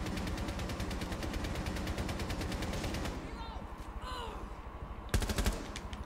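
Rapid automatic gunfire in Rainbow Six Siege, loud and continuous for about three seconds, then a quieter stretch with game effects before another short, sharp burst near the end.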